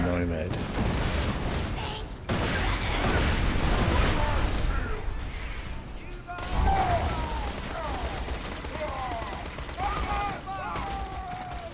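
Hellfire gun fired in rapid, dense bursts during a video game firefight as Maya in True Vault Hunter Mode, loud and near, almost continuous across the clip, with chirping effects and faint voices mixed in.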